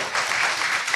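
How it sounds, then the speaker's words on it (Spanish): Dense, steady applause from a church congregation, loud and continuous with no pauses. "Denle un aplauso a Dios"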